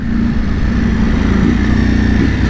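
A 2021 Ducati Panigale V4S with standard exhaust cans revving, a loud, close, steady engine roar that holds throughout with slight surges.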